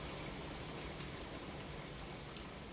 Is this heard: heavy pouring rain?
yes